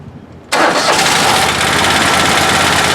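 Exmark Lazer Z mower engine starting, it catches abruptly after a short quiet moment and settles straight into a loud, steady running roar, close by.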